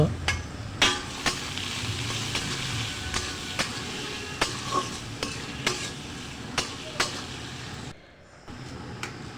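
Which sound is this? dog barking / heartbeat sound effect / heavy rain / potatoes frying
potatoes frying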